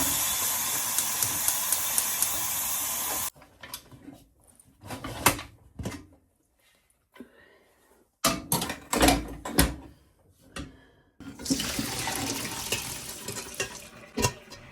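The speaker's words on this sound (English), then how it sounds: "Switch them off and allow the steam to be slowly released." Steam hissing hard from a pressure cooker after a batch of black-eyed beans, a loud steady broadband rush for a few seconds, then quieter clattering and handling sounds, before the hiss swells back up.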